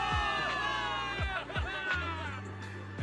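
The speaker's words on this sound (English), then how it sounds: "Give it up for yourselves, soldiers! Cheer for victory!" A game crowd in Zenless Zone Zero cheers for victory as soldiers roar and whoop together, a loud dense swell of voices rising and falling over low rumbling music hits.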